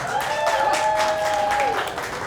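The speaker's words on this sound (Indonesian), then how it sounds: "beri tepuk tangan yang meriah" Audience applause following a dance performance at a Wonosobo arts showcase, a steady dense wash of clapping across the whole stretch with a sustained tonal music line running through it.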